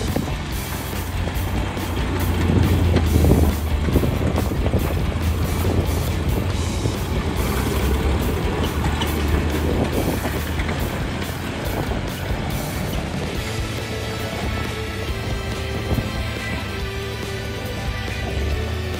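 A vintage Willys Jeep CJ2A drives across an empty field, its engine rumbling steadily and loudly up close, with wind buffeting and rattles throughout.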